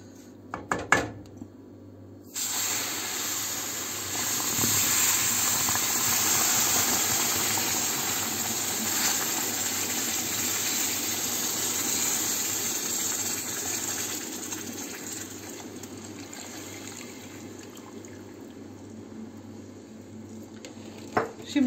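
Milk poured slowly into a hot pan of semolina halva bursts into a loud, steady steaming hiss that starts suddenly and holds for many seconds before gradually easing, with faint clinks near the start and end.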